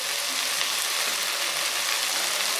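Ground masala of coconut, ginger, garlic, cinnamon, cloves and cashew fries in a pan with field gram, giving a loud, steady, close hiss of sizzling throughout with no talking.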